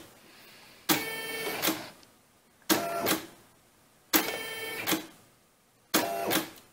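A Brother SE-400 embroidery machine runs in four short, evenly spaced bursts of rapid mechanical whirring and clatter, each under a second long, with quiet pauses between them and no talking.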